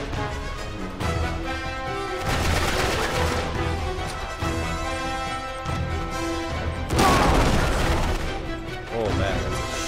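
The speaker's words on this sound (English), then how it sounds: "that's a sick shotgun we got." Loud bursts of shotgun fire and impacts in an Uncharted 3 firefight, several heavy blasts crowding together over a dense game soundscape, with voices mixed in.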